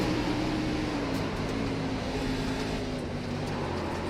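A race car engine at Daytona International Speedway, heard in a racing game, drones loudly and steadily with a slowly shifting pitch as it tries to build revs.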